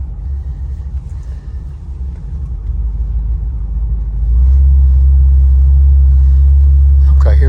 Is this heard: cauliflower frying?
no